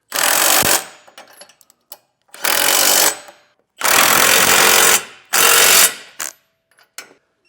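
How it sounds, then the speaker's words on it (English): Base plate bolts are tightened with a 19mm socket on a 2024 Ford fitted with a Roadmaster Direct-Connect kit: four loud, close bursts of rapid ratcheting, each about a second long, separated by quiet gaps with scattered metallic clicks. "we'll come back with a 19mm socket and wrench and tighten these down"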